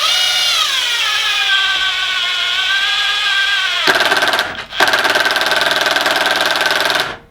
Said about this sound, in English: so we have it on setting 1. Pretty slow. It should not drive this guy all the way down.